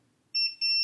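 A multimeter in continuity mode gives two steady electronic beeps, the second one held, as its leads test a fuse on a PS4 Slim circuit board. The tones are clear and close, with no talk over them.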